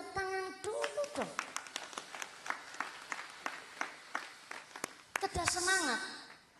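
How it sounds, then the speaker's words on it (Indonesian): Scattered, uneven hand claps ring out from an audience at a live post-tarawih Ramadan religious lecture, with sharp individual claps spread over several seconds and a voice sighing and murmuring between them. "tepuk tangan dulu dong"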